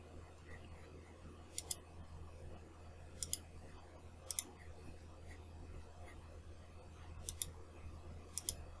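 A computer mouse clicks in quiet, sharp pairs, five or so scattered double clicks spread over several seconds against a faint electrical hum, close and soft with no talking.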